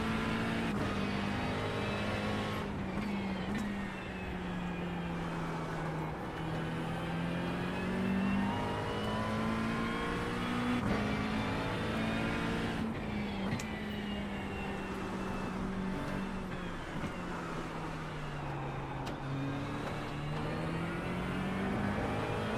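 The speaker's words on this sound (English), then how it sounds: "Shouldn't you do a quick upshift to third then from second out of turn 1 then, yeah?" GT race car engine in the iRacing sim during an endurance race at Imola, a continuous loud engine drone whose pitch rises with acceleration and drops sharply at each gear change, repeating through the laps.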